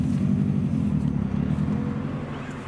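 Subaru WRX STI engine while driving, a steady low rumbling drone from inside the car, close and even, no talk.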